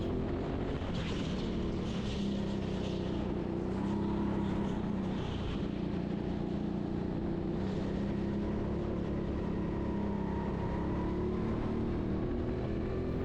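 A go-kart engine on an empty indoor TeamSport track in Sheffield drones continuously up close, a steady low whine with slight rises and dips in pitch as the kart runs its laps.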